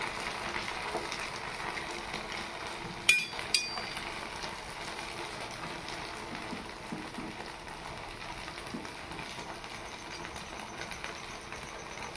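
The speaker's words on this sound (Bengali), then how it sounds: "আমি খুব আস্তে আস্তে নাড়ছি এটা" Flattened-rice monda pitha frying in oil in a wok while being gently stirred: a soft, steady sizzle with a couple of faint metallic clinks early on and no talk.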